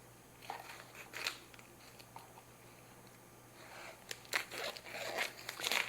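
Scissors snipping off food packaging in a home kitchen, a few quiet crisp cuts and crinkles of plastic, close and soft against low room hum.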